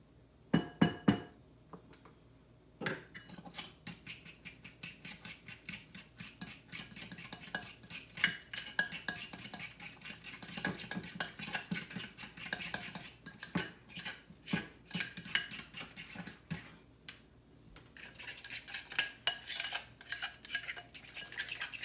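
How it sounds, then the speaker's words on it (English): Deviled egg yolk filling is mashed and mixed with yellow mustard in a bowl, with a utensil clinking and scraping against the dish in quick, irregular strokes, close and moderately loud. "And we're going to mix this all up together."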